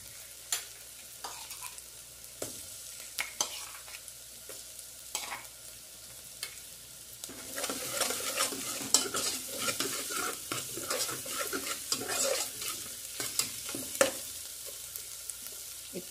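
Garlic cloves and golden onion frying in a pan, stirred with a utensil. The sizzle starts soft, with sparse clicks and scrapes, then swells into a fuller, busier crackle with frequent stirring strokes. No talking.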